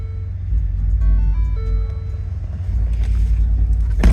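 A 2016 Lincoln Navigator Reserve with the 3.5 EcoBoost twin turbo V6 cranks and fires up, settling into a steady low idle rumble with a brief chime tone early on, heard from close by.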